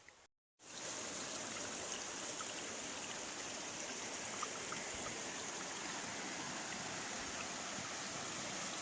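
Water in a stream flows along a hiking trail on the Appalachian Trail near Grayson Highlands, a steady, fairly loud rushing wash after a brief silent moment at the start, with no voices.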